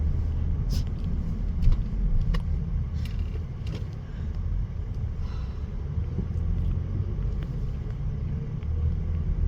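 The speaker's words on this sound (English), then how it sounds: "I got cars behind me" Car traffic heard from inside a moving car stuck in a traffic jam, a continuous low road rumble with wind buffeting and faint passing-vehicle sounds, steady and moderately loud throughout.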